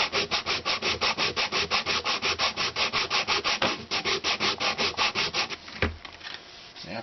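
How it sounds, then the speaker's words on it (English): Hand sanding with 120 grit sandpaper wrapped around a block, rapid rhythmic back-and-forth rasping strokes, close and loud, about twenty strokes before slowing and stopping near the end. "So if you wrap a piece of sandpaper, I think this is 120 grit, and then just sort of sand back and forth like that."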